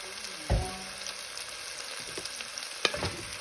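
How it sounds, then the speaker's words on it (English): Two large white onions frying in melted butter in a pot, a soft steady sizzle with a few thumps and scrapes from stirring, close and quiet with no talking. "Let's go ahead and get our onions in"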